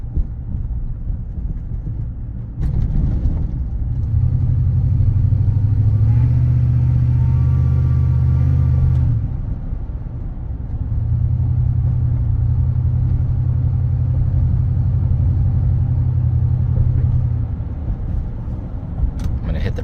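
A supercharged 2004 Chevrolet Silverado 1500 with the Joe Gibbs Performance Package drives along, its engine droning low and swelling in two long sustained pulls separated by a brief ease-off.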